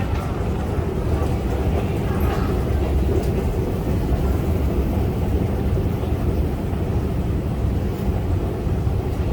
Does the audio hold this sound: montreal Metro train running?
yes